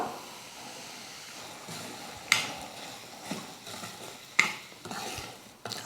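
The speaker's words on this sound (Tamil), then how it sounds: "அந்த ரவையை சேர்த்து வறுத்துக்கலாம்" Semolina (rava) roasting in a pan with cashews and raisins for kesari: a soft, steady scraping stir with a few sharper clinks of the spoon against the pan.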